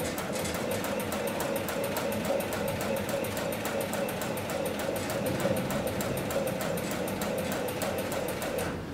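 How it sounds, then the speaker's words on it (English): HighTex 7243CS industrial sewing machine stitching lifting slings, a fast, steady mechanical clatter of needle strokes running continuously at an even pace, close and fairly loud. "I'm going to set my foot back down, and I'm going to continue sewing."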